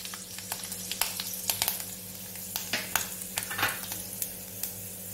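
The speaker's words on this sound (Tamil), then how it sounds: "இப்போ வந்து கடுகு போட்டுக்கோங்க." Mustard seeds sizzle and pop in hot oil, a continuous soft frying hiss broken by sharp irregular crackles and stirring sounds, close but fairly quiet.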